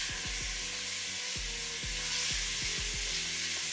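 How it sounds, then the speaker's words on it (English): A wagyu sirloin steak, salted, sizzles steadily in a hot pan, a loud, constant frying hiss with several sharp spits and crackles scattered through it, with no talking. "Into our nice hot pan."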